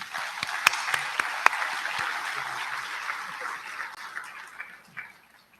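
An audience at a senior high school commencement in Manila applauds a graduate's parents with steady, moderately distant clapping, a few sharp nearby claps standing out before the applause thins and fades at the end.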